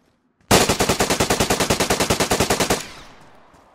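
A long automatic burst from an MP5 in the video game DayZ, about two dozen rapid, evenly spaced loud shots over a couple of seconds, then a fading echo tail.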